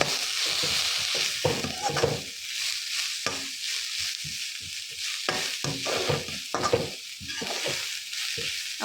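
Masoor dal lentils tossed into a hot pan sizzle loudly, broken by repeated scraping stirs in an uneven rhythm, close up and with no voices.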